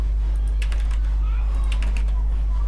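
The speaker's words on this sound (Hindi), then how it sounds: "यहाँ पर कोई भी टाइप कर लिया मैंने" Text being typed on a computer keyboard, a few scattered light key clicks over a loud low hum and background noise.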